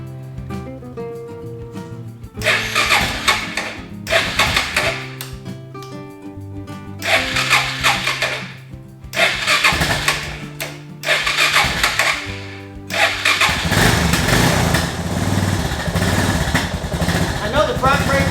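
A Suzuki DR650 motorcycle, an old garage find, cranks, catches and settles into a rough running idle, with several uneven bursts of engine noise before it holds a steady, dense rumble close by.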